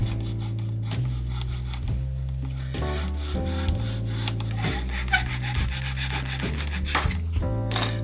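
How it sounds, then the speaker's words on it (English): A fine-toothed hobby saw cuts through a plastic part from a 1/350 AMT Klingon Bird of Prey model kit, giving a close, steady back-and-forth rasp in rhythmic strokes with no talking. "gonna take my little hobby saw here"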